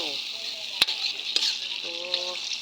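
Sauce is stirred in a pan with a soft hissing sizzle, two sharp utensil clicks against the pan and a brief murmuring voice in the background.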